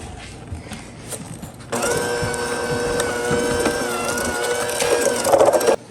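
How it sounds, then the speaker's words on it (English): Butter and sugar being creamed for coffee cake batter, a steady mechanical mixer whir that starts abruptly partway through and runs loud and continuous to the end, with some clatter beforehand. "We're going to start by creaming a half a cup of butter and 3/4 cup sugar"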